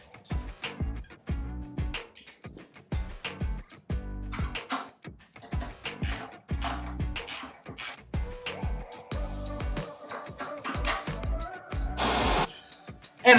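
Hand tools working on the rear fuel-tank mounting bolts of a Harley-Davidson Softail Street Bob, giving a close, irregular run of sharp metallic clicks, ratcheting and clanks with short pauses, and no voices.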